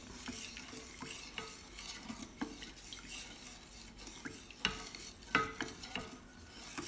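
Stirring a sweetened condensed milk mixture in a pot for young coconut shaved ice: soft scraping and clinking of a utensil against the container, irregular strokes close by with a few sharper knocks.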